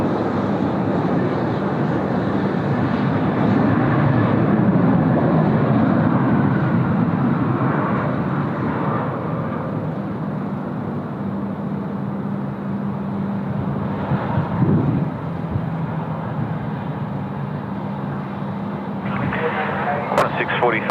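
Aircraft at Sydney Airport, a broad steady jet roar heard at a distance under someone talking most of the way through, with radio chatter and a brief rattle near the end.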